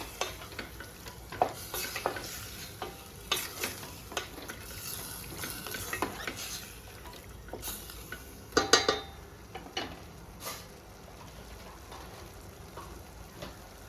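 Chicken pieces are mixed with chili flakes and spices in a bowl, giving soft wet stirring and squelching with scattered clinks of a utensil against the bowl, close and fairly quiet.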